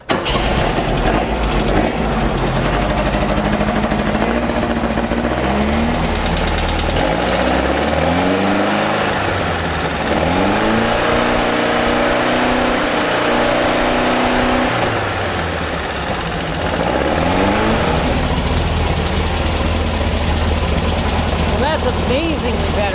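Beck 550 Spyder replica engine idling after a carburetor jet change, a steady close rumble holding through the whole stretch with slight shifts in pitch as the idle settles, with a voice talking over it.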